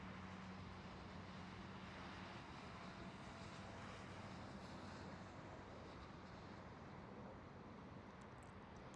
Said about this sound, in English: And this is a KLM City Hopper E175.